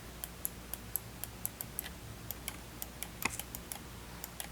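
Light, sharp plastic clicks from game controller buttons fitted with mouse-click switches, tapped out one after another at an uneven pace, close and fairly quiet, with no talking.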